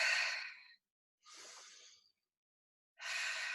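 Three slow, audible breaths during a fitness class, a long airy inhale, a softer exhale and another full breath, close and quiet with short silent gaps between them.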